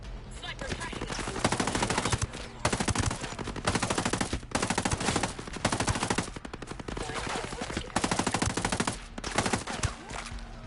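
Repeated bursts of automatic gunfire in the tactical shooter Ghost Recon Breakpoint, loud and close, in rapid rattling volleys separated by short pauses.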